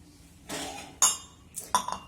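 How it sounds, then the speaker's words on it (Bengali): Boiled tea strained into a cup on a cold day, with a few sharp clinks of a cup and utensils and a short pouring rustle, close and fairly quiet. "চাটা ছেঁকে নিই"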